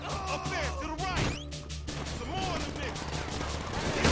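Gunfire in the video game GTA V: a dense, continuous barrage of loud shots and crashing impacts with bullet whizzes, filling the whole stretch without pause.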